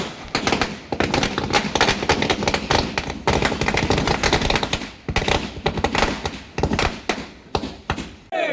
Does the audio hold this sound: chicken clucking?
no